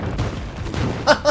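A bomb exploding in Spelunky 2, heard as a few quick sharp bursts over a low rumble of game sound, ending in two punchy hits.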